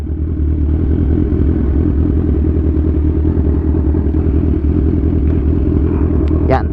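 A motorcycle engine idles and rumbles nearby at an outdoor sightseeing spot, a loud continuous low drone with some clatter, and a voice cuts in briefly near the end.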